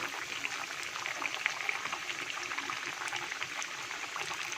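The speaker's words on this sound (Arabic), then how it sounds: "هبتدي بقى احطها في الزيت سخن وهقليها" Breaded pieces of liver frying in hot oil, a close, steady bubbling crackle with fine spitting pops throughout, no speech.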